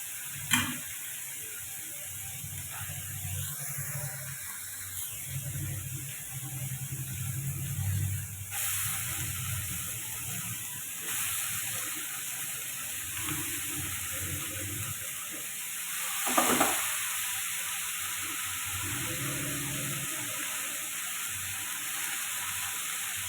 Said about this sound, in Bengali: চিংড়ি মাছটা বেশ ভালোই হয়ে গেছে ভাজা মতন এবারে এর মধ্যে বাঁধাকপিটা দিয়ে দেবো